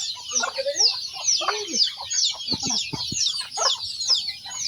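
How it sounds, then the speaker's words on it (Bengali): A mother hen clucks steadily among her many chicks, whose high peeping chirps fill the background, up close and continuous with no talking. "আর একটা মুরগির সাথে দেখেন কত বাচ্চা"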